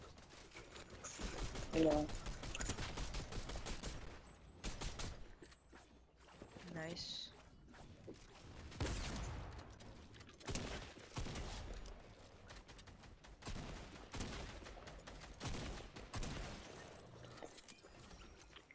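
Gunfire in the Fortnite Reload video game, rapid bursts and single shots firing in quick sequences, fairly faint in the mix, while players talk over the action throughout.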